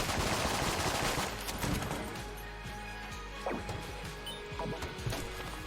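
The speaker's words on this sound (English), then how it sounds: "This is the worst Gatling Gun I've ever seen. Keep firing!" Rapid Gatling gun fire from the top-down game Enter the Gungeon, loud at first, then thinning into scattered shots and impacts with faint crashes over the last few seconds.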